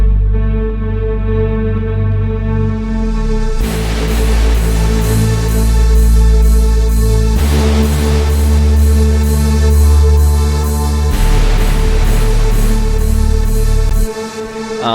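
A remix hook built on a Serum synth with pitch-bent sub bass plays loud and dense, in sections that swell and restart about every four seconds, with no talking.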